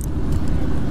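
A 2022 Harley-Davidson Street Bob motorcycle engine runs steadily up close just after starting, a continuous low rumble filling the short moment with no voices.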